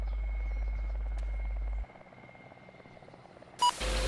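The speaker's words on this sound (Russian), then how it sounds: "Сейчас вертолет подлетит." A video game helicopter drones loudly as a steady low rotor hum, then drops away abruptly and is cut off by a short electronic beep and burst of noise.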